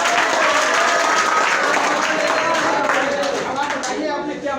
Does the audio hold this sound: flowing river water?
no